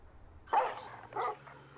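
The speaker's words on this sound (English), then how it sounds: "whose dog is that, man?" A dog gives two short barks, a moment apart and somewhat distant, in a quiet haunted-house drama scene.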